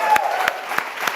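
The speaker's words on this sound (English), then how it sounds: "One more round of applause for all of our friends in the community who joined us." Brief applause from an audience at a charity fundraising night, a few separate claps over a light crowd wash, close and moderately loud.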